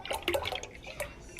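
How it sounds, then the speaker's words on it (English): Half and half and heavy cream poured into a cooking pot for homemade yogurt, a soft, close liquid splashing and trickling that carries on steadily with small drips throughout. "I'm gonna pour my half and half in there. And my heavy cream."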